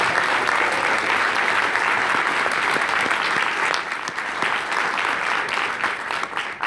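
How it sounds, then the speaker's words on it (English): An audience at a March For Our Lives event gives the participants a sustained round of applause, dense and loud clapping that holds steady before easing slightly toward the end, with no speech over it. "Let's give our participants one more round of applause."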